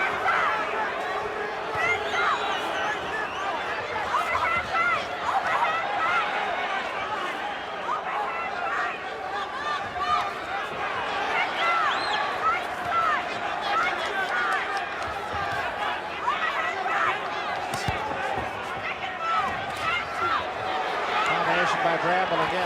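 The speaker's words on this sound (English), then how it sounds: "The crowd is saying boom, boom." Boxing arena crowd during a bout, a sustained roar of voices and chanting with a steady rhythmic swell throughout, heard under a commentator talking.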